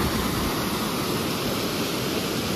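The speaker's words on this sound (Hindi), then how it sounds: "यहाँ से पूरा पानी गिरता है" Waterfall in Ranchi, Jharkhand, heard as a steady, broad roar of falling water, loud and continuous with no voices.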